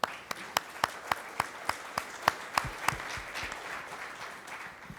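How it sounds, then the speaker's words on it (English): Scattered, separate claps from a small audience in a conference room at an aviation search and rescue training day, honouring dog handlers; about a dozen sharp hand claps fade out within the first three seconds, then only faint room noise remains. "let's just give them a bit of a round of applause"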